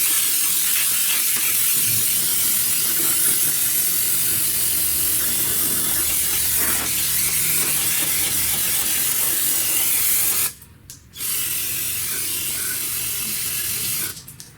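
Cleaner spray hisses steadily onto a 2000 Porsche Boxster during clutch work for about ten seconds, breaks off briefly, then resumes before stopping; close and fairly loud, with no talking.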